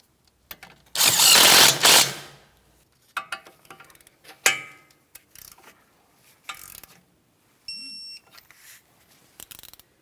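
A castle nut is tightened on the tie rod end of a 2007-2014 Ford Edge during front wheel bearing and hub work: a loud burst of tool noise, then scattered metallic ratchet clicks and a short electronic beep, close up.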